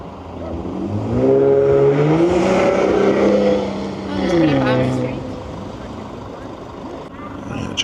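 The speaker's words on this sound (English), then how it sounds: "I hear cars in the not so distance." Nearby car engines rev and pass in Praia, Cape Verde, rising and falling in pitch over several seconds, with a voice briefly talking underneath.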